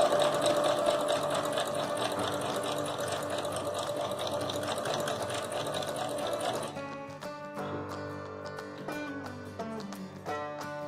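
A sewing machine stitches a dupatta onto satin with a fast, even mechanical whir for several seconds, then stops, leaving scattered clicks and handling sounds.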